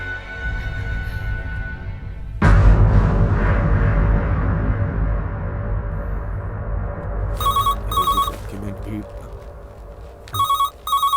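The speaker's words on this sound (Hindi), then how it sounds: "सर फोन बज रहा है" A deep thud is followed by a rumbling background, then a telephone rings in two short bursts of bright electronic trills near the end.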